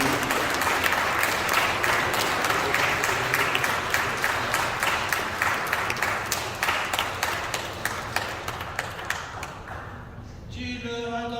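Church congregation during a French Catholic service claps in steady rhythmic applause, dense and sustained for about ten seconds before fading, followed by a brief sung or spoken tone at the end.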